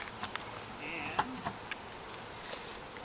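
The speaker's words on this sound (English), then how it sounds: "Hopefully most of these bees will be out of here." Bees buzz faintly around a newly installed hive, a soft steady hum dotted with a few brief ticks and taps.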